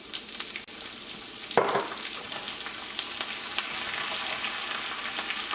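Chopped ginger and green chilies fry with cumin in a pan for rava pongal, giving a soft, continuous sizzle with a brief louder crackle as they go in.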